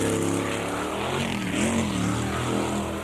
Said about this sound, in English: Roaring engines, flying gravel and exhilarating speed were all part of the South Island Jet Sprint Championships at Gore yesterday.